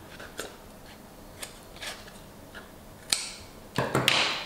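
Scissors cut the corners of paper for a handmade scrapbook album, with a handful of short, crisp snips spaced apart, growing louder toward the end.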